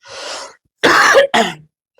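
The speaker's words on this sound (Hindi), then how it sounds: "माफ कीजिएगा थोड़ा खांसी है" Three coughs from one person, close and loud: a softer first cough, then two harsh bursts in quick succession, with no talking.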